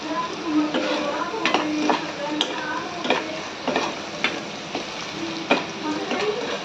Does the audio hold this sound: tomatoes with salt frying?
yes